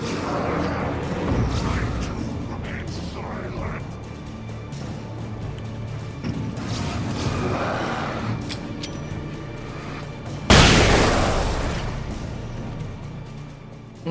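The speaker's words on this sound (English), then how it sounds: "There's some slight delay on the explosion." A sudden loud explosion in the video game Alan Wake bursts out near the end, a broad blast that slowly decays over a rumbling, busy game soundscape.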